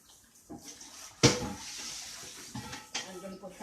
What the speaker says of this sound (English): I'm gonna put hot water in my pot